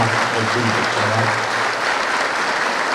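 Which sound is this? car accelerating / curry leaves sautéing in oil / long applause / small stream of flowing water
long applause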